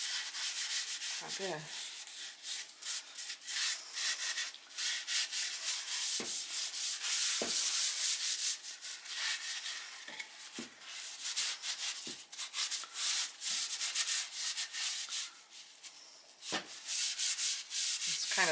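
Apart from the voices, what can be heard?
rubbing tung oil into a wooden cutting board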